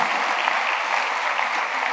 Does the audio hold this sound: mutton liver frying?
no